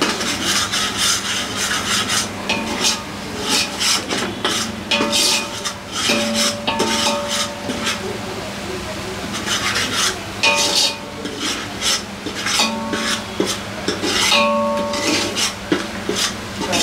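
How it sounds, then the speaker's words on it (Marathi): Biryani masala with turmeric is stirred and scraped around a pan, giving a steady run of close rasping, scraping strokes with light metallic clinks, no voices. "आता जो मसाला बनवलाय ना जवळपास मी 2 मिनिटं असंच परतून घेणार आहे"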